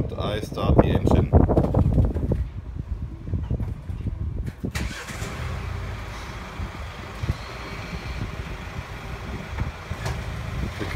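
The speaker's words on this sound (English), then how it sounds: "And I start the engine." A 2016 Mercedes E-Class engine cranks and catches during remote parking, a rough burst of starting noise that settles into a steady idle with wind rumble across the microphone.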